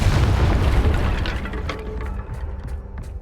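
A Confringo fire spell bursts in Hogwarts Legacy, a heavy booming explosion up front that rumbles and fades over a few seconds with scattered crackles and clicks after it.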